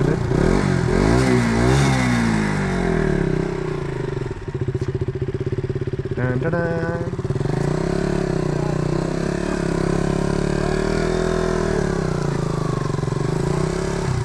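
A motorcycle engine idles loudly close by in snowy Daman, Nepal, its note rising and falling as it revs, with a brief clattering rattle midway.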